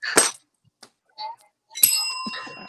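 A bell is struck twice, each time a bright metallic ding that rings out briefly, with a short voice sound between the strikes.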